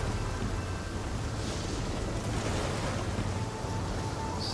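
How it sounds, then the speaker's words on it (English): Ocean waves surge and wash in a video game, a steady, loud broadband roar of surf with low rumbling swell and no talk. "This one at least makes sense that the waves are pushing me."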